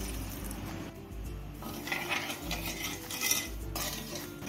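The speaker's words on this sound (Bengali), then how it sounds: "চিনিটা গলে যাওয়া অব্দি একটু নেড়ে নেব, নাহলে তলায় লেগে যেতে পারে" A spoon stirs sugar and water in a pan for syrup, with soft, intermittent scraping and light metallic clinks against the pan at low volume.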